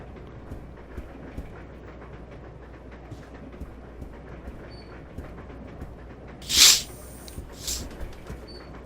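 A train rolls along in the train level of Resident Evil 0 with a steady rattling rumble and clickety-clack, then a sharp, loud metallic burst near the end and a fainter one after it.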